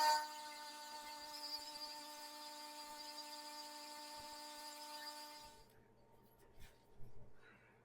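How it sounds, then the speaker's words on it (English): An electric sander works over an old home decor piece, giving a steady high whine that runs loud and unbroken for about five seconds before cutting off, followed by faint handling clatter. "so let's get that sanded"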